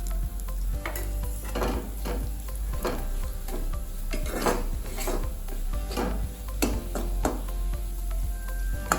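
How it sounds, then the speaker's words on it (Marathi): Gram flour and crushed green chilli thecha sautéing in oil in a pan for a Kolhapuri-style chutney, with a steady close sizzle and repeated scraping stirs of a spoon against the pan. "हे बेसन भाजून निघण्यासाठी यामध्ये मी पुन्हा 1 चमचा तेल टाकले."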